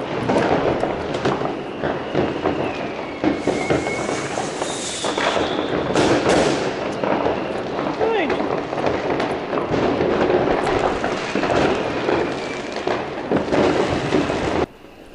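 Recorded fireworks played at full volume through open windows for cat training, a dense continuous barrage of booms, crackles and whistling rockets, loud and steady until it cuts off abruptly.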